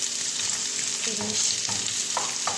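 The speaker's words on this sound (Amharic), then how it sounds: "በዘይቱ እንጠብሰዋለን ሽንኩርታችንን" Two heads of finely chopped onion fry in hot oil, giving a steady bright sizzle with soft stirring scrapes, and a voice briefly speaks over it.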